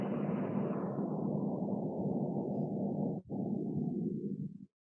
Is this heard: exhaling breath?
yes